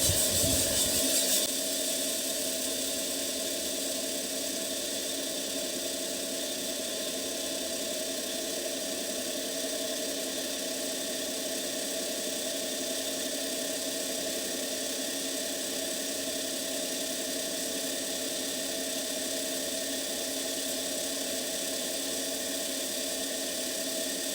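A prototype 500 g-batch coffee bean roaster driven by a DC motor runs with a steady, unbroken mechanical hum and whir, heard alone and unchanging throughout.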